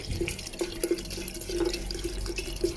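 Two bottles of 40-degree Thai liquor pour into a jar of herbs and honey for infusing, giving a close, continuous trickle of liquid with small splashes and drips.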